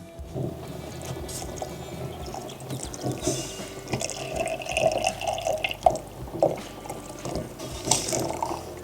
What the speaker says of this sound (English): I'm just going to take that off the heat and add the all-important cold water